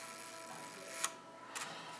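A Rolleiflex 2.8C Xenotar twin-lens reflex camera's shutter fires at half a second, two faint mechanical clicks about half a second apart against a quiet room hiss.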